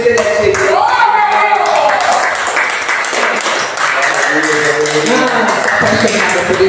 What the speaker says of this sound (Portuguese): Aplauda mais uma vez, Ele é Deus.